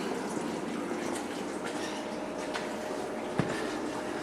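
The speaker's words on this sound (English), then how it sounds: "It's a Euro Reef skimmer" A Euro Reef protein skimmer runs in the sump under a reef aquarium, giving a constant close rush of bubbling, churning water with one brief click partway through.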